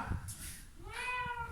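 A single cat gives one short meow, moderately near and fairly soft, over faint room background inside a theater.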